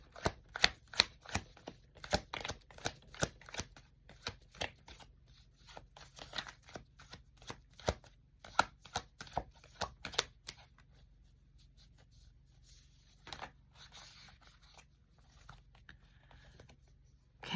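Tarot cards are shuffled by hand in quick, crisp riffling bursts, dense at first and then thinning out into sparse soft taps, faint and close with no talking.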